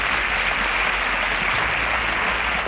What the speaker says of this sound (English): A round of applause for Marvel.